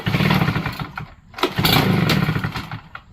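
A PROYAMA 72cc two-stroke backpack leaf blower engine runs rough and loud close by, sputters and nearly dies for a moment, then surges back to a buzzing rattle.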